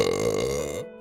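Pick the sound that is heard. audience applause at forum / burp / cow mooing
burp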